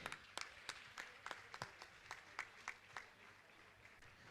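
An audience gives scattered applause at a religious discourse gathering, a faint, sparse run of individual claps with uneven rhythm from a distance.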